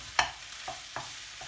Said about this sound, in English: Scramble it, and then as it gets harder, we're going to mix it in